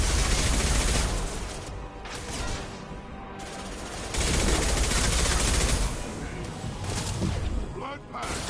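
Video game gunfire in Mass Effect 2, continuous automatic weapon bursts in a dense, loud barrage that surges and eases in waves, with combat noise layered throughout.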